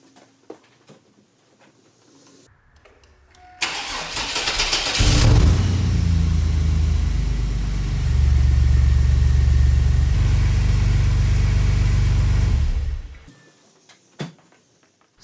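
A 2000 Chevy Blazer with a failing exhaust cranks and fires, then a loud, rough idle rumbles steadily for about nine seconds before cutting off; faint clicks and handling noises before and after.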